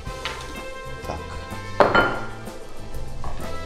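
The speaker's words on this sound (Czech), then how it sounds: "A mícháme a dáme hlavně pozor, aby se nám ta gorgonzola nelepila k pánvi." A utensil stirring gorgonzola pasta sauce in a frying pan, giving irregular metallic scrapes and clinks against the pan with one louder scraping knock midway, close up in a kitchen.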